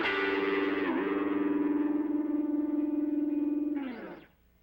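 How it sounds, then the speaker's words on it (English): A sustained tone passes through a modulated delay effect set to a fast rate, a fluttery, wavering, chorus-like pitch holding steady for about four seconds before a short swell and a quick fade. "If you have it very fast, it'll sound very fluttery."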